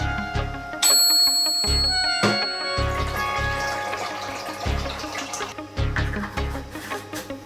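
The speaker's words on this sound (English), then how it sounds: "So just pouring those chemicals in, the red color, tap, and into the sous vide water bath it goes." Red bleach-fix chemicals pour into a film developing tank, with liquid sloshing and a sharp metallic tap near the start, close and moderately quiet.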